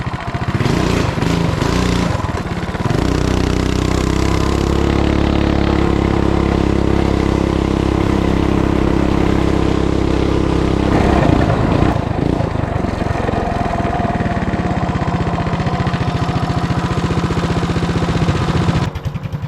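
A Coleman BT200X minibike engine with a 30 series clutch runs loud and close, buzzing at a steady pitch, then revving and dropping back before settling again; no speech.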